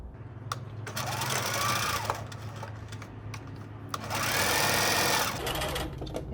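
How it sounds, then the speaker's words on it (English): A sewing machine stitches around the edge of a fabric makeup wipe, running in steady bursts with a brief pause near the middle and a stop toward the end, close and fairly quiet. "I'm going to stitch all around it and stop my stitch here"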